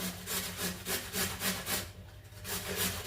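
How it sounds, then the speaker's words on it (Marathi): A fresh carrot, held upright, is grated against a grater in steady rhythmic rasping strokes, close and evenly paced, for a carrot halwa. "गाजर किसण्यासाठी गाजरला आपल्याला असं उभं धरायचं आहे आणि उभं धरून त्याला याप्रमाणे आपल्याला किसून घ्यायचं आहे"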